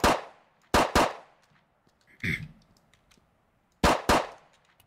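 A Colt 1902 pistol fired in a few close, sharp reports, first one shot, then a quick pair, then another pair after a pause, with a metallic clack in between and no talking.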